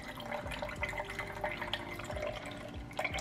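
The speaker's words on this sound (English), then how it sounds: "So let's go ahead and pour and see what we got out of that one." Pumped breast milk is poured into a bottle at home, with soft intermittent trickles and drips close by and nobody talking.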